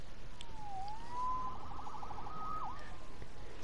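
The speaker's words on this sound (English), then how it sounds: "Saved by the siren." A faint wailing siren glides up and down in a Spider-Man video game, sitting thin and distant over a steady background hiss, with no voices.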